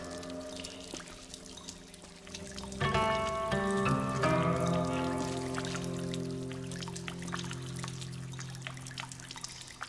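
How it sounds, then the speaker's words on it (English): Rain falls steadily through a sword-fight scene from the film Hero (2002), with soft pattering and dripping under layered sustained tones and a swelling musical passage in the middle. "The raindrops and then the sound of that, and then you're fighting."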